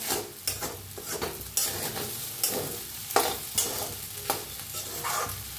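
Sago pearls (sabudana) roasting dry in a pan, stirred with repeated scraping strokes in an irregular rhythm over a faint continuous sizzle, close and fairly quiet, with no talking.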